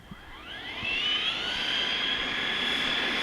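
An ARRMA Mojave 6S BLX RC car makes a high-speed pass, its brushless motor rising into a loud, high-pitched whine that sweeps upward and holds as it passes close by.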